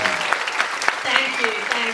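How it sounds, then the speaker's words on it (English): An audience claps in a hall during a Q&A event, a dense, steady round of applause for two seconds with a few louder individual claps standing out. "maybe you would like to show her another round of applause"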